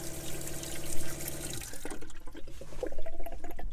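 Water runs from the sink pump of a stealth camper van, a steady close gush that cuts off midway, leaving a few drips and small clatters.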